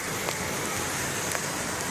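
Steady rain pours down, a dense hiss of drops on surfaces with no voices.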